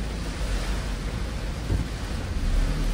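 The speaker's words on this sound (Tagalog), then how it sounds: "Lakas na ng ulan, no? Mamaya makikita nyo. May kasama pang hangin." A dense, steady roar of heavy typhoon rain mixed with gusting wind in Las Piñas, loud and continuous with no voices.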